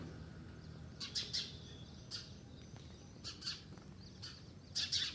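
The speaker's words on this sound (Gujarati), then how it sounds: "ગોળ દૂધીમાં પોપટ બેઠો છે" A parrot perched on a bottle gourd gives a series of short, shrill chirps and squawks in uneven bursts, fairly faint over a quiet farm background.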